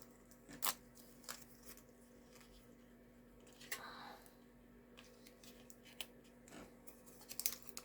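Scissors snip through paper during a journal-making craft session, giving a few short, quiet cuts spread across a faint room background with a steady low hum.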